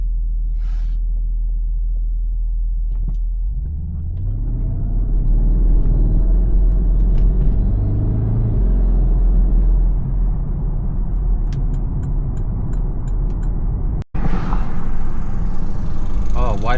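A Porsche Cayenne Turbo with its secondary catalytic converters bypassed idles with a deep, low exhaust rumble that swells and holds steady, with a voice talking over it and a brief dropout near the end.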